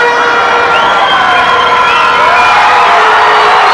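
A lucha libre wrestling arena crowd roars in a sustained, dense wall of cheering and shouting, with high whistles and yells riding on top. The noise is loud and continuous throughout, with no pause.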